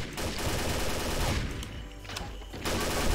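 Machine gun fire in the online shooter Combat Arms on a dark forest night map, with dense bursts of rapid shots, a brief lull in the middle, then the firing resumes loudly.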